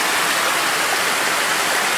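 Water from a small creek flowing toward a lake in the Nibutani Ainu community, Hokkaido, Japan, rushes in a dense, steady, close hiss with no pauses or voices.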